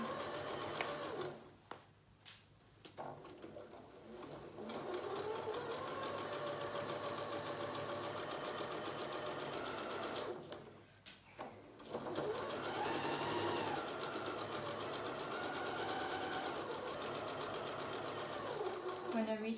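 A sewing machine stitches around a fabric bucket, its fast mechanical whirr running in long steady bursts broken by short pauses, close and clear.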